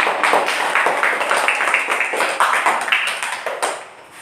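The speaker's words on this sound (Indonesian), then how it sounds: "tepuk tangan untuk Mas Edi" A class applauds a participant, Mas Edi, during a teaching practice session: steady, close rhythmic hand clapping from a group that runs for about four seconds before tapering off at the end.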